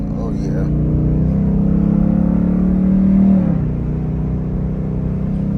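A Ford Mustang S550 Mach 1 engine drones steadily, its pitch climbing as it revs harder, then settling back to a lower hum near the end.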